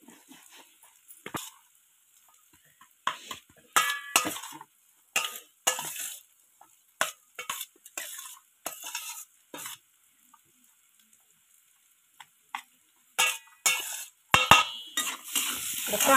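Onion frying in a kadhai with turmeric and chilli powder, bursts of sizzling and spatula scraping against the pan that come in uneven spurts with quiet gaps between them, up close and with no talking.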